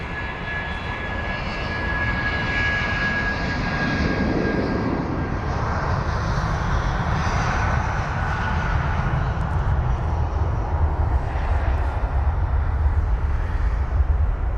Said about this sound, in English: And now we'll be heading to Dusseldorf, the A319 with flight number